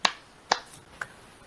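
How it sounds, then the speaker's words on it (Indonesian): Three sharp, close hand claps come at even half-second intervals, each a crisp isolated crack with a brief decay, the last one noticeably softer, in a quiet classroom setting. "Kemudian kalau tepuk siang 2 kali."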